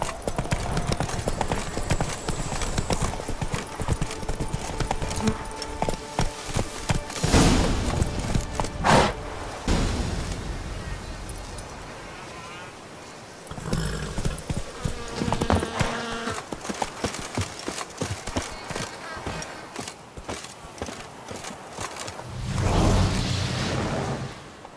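Roach, the horse in The Witcher 3, gallops with a continuous rhythmic clatter of hoofbeats, loud and close, broken by a brief lull midway before the pounding resumes.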